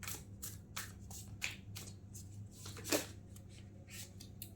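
Tarot cards being shuffled by hand close up, a run of soft riffling flutters and slaps at an uneven rhythm, quiet and alone.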